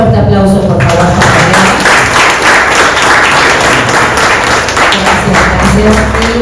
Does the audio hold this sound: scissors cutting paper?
no